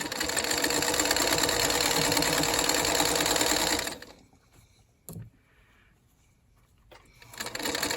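A sewing machine stitches fabric for a quilt block, running steadily with a rapid mechanical whir for about four seconds, stops, then starts stitching again near the end after a brief knock.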